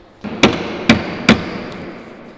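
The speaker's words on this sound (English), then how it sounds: "let me just bang that nail in" Three sharp hammer blows drive a nail in, evenly spaced about half a second apart, close and loud, each a hard knock with a brief ring, then quiet.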